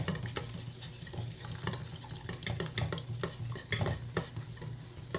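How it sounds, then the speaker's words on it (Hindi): A spoon stirs dissolved cornflour into custard in a metal pot, giving a steady scraping swirl with irregular soft clinks against the sides, quiet and close, with no speech. "अब आपने चम्मच को हिलाते जाना है और डालते जाना है"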